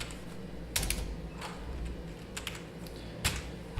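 Keys tapped on a computer keyboard while entering text into spreadsheet cells, a few sharp clicks in small bursts separated by pauses over a low steady background hum.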